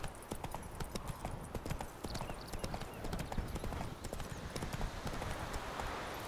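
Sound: horse hooves while riding in The Witcher 3, video game

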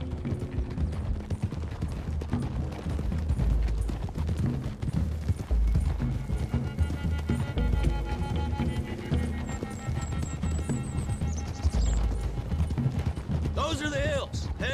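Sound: horses' hooves clip-clopping, from the video game Red Dead Redemption 2

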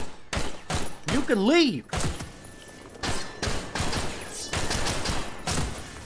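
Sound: gunfire from shooting enemies in the video game Half-Life 2 MMod

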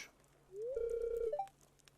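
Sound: telephone ringing in the video game Stardew Valley

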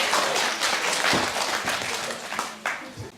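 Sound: audience applause for the first deputy mayor

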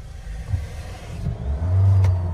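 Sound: modified Scorpio and Thar revving at a drag race start

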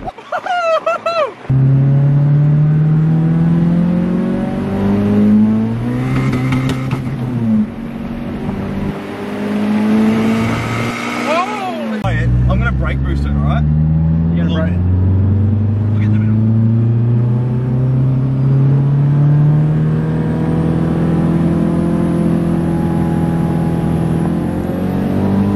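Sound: car with 4EFTE engine and new intake accelerating in second gear

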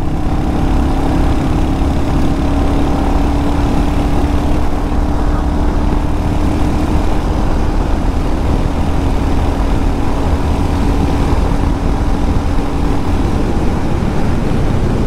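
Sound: Royal Enfield Hunter motorcycle accelerating on road

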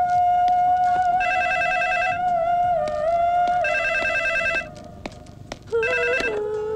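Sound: telephone ringing

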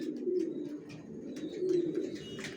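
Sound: racing pigeons cooing in a loft

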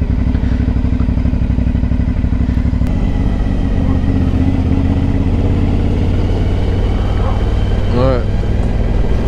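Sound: Aprilia motorcycle engine roaring loudly

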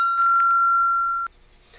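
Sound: top piece of a cut aluminum O2 cylinder rung as a bell

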